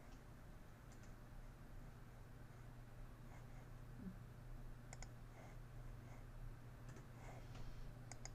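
Faint, sparse mouse clicks while checking boxes in medical records software, scattered single clicks over a steady low hum of room noise.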